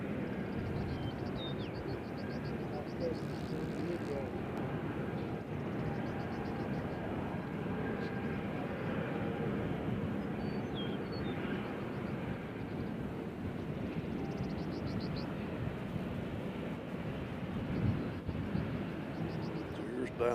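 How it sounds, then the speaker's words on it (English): A Southwest jet airliner rumbles steadily at Nashville International Airport, a continuous broad engine roar that stays moderately loud, with faint radio chatter in the background. "Here's Southwest about to get in the action."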